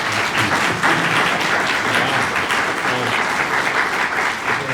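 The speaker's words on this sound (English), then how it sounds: "How about a round of applause for that?" A keynote audience breaks into steady, dense applause that holds at full strength for several seconds, many hands clapping together in a large room with no voices rising above it.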